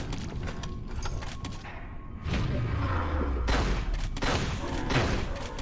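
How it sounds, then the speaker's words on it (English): Frag fire cannon discharging in the first-person shooter Hedon Bloodrite, giving a loud burst of heavy mechanical blasts and thuds, with the dense firing lasting through the back half amid game combat noise. "We now equip our new frag fire cannon."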